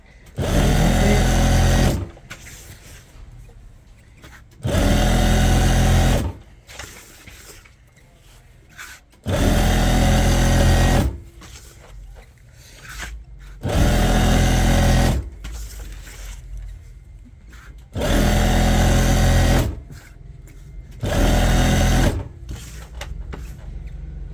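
An electric sewing machine runs in repeated bursts of a few seconds each while stitching lace onto a dupatta, its steady whirring stitch loud and close, with quiet handling pauses between runs.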